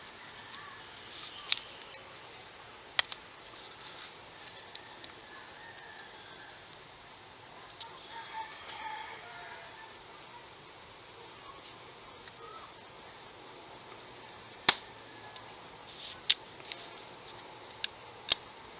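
A wooden deck plank being cut on a ship model: faint, sporadic sharp snips and clicks over a quiet background, most of them late.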